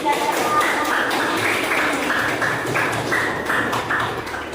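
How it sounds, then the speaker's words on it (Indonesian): A classroom of students in an Indonesian lesson clap together for a classmate's correct answer, a steady, busy patter of many hands lasting several seconds, with background chatter underneath. "Kasih tepuk tangan untuk"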